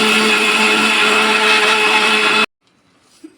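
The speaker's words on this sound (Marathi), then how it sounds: "आता आपण मिक्सरला वाटून घेऊ बारीक" A kitchen mixer grinder whirs loudly at full speed, grinding sugar with cardamom for a mango aamras, a steady motor whine for over two seconds that cuts off abruptly into near silence.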